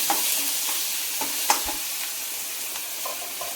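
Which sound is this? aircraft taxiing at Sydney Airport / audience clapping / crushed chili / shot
crushed chili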